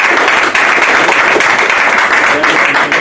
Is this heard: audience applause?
yes